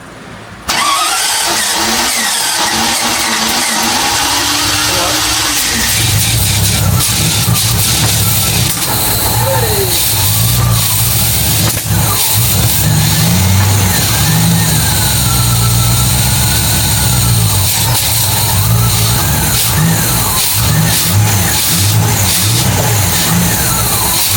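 MGB GT V8 engine firing on its first start: it catches abruptly, then settles into a loud, rough idle with rising and falling revs throughout.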